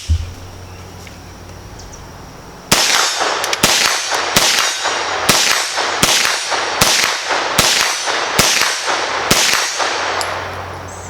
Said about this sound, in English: Shooting at about 50 yards on a silhouette target here.